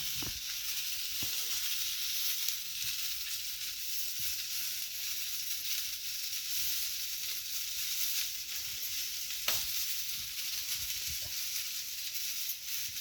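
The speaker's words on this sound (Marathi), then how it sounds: "टाकलं का तळायला लसूण हा लसूण तळायचं ना" Garlic frying in oil for a village-style tomato and green chilli thecha, a soft continuous sizzle with faint hiss and a couple of brief louder pops.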